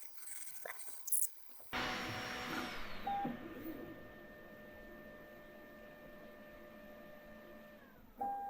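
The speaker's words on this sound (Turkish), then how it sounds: "Şu anda ayrıca tüm fanlar maksimum hızda çalışıyor." A Creality K1 Max 3D printer runs with all fans at maximum, giving a steady close whirring hum with high motor whines that shift in pitch, after a few clicks and a brief pause at the start.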